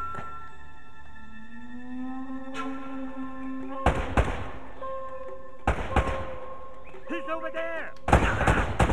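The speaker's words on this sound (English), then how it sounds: "What are you shooting at me that way for?" Enemy gunfire in the Uncharted video game, with several loud bursts of shots arriving in separate clusters, set over sustained musical tones while a voice briefly speaks.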